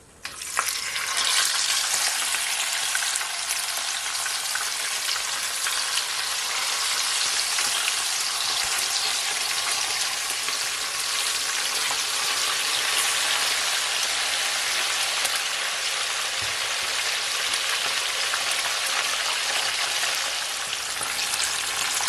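Fish frying in hot oil for Jamaican escovitch fish, a steady loud sizzle and crackle that runs without a break, with no talking over it.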